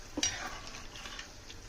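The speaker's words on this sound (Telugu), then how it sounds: "తిల్లి కూర కూడా ఉడుకుతుంది." Goat spleen curry cooks in a pan. A single spoon tap against the metal is followed by a soft, steady sizzle and simmer, close and quiet.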